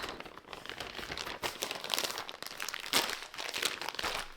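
A Ziploc bag holding marinated meal-prep protein is pressed shut, giving close, continuous plastic crinkling and crunching with a few sharper crackles, alone with no talk.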